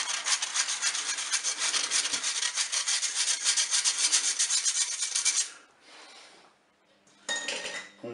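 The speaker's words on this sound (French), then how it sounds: "Je vais mettre la farine et puis ma levure. Et voilà, on va tamiser." Flour and baking powder are sifted through a sieve over a bowl, a close rhythmic rasping shake lasting several seconds, then a pause and a shorter burst of scraping.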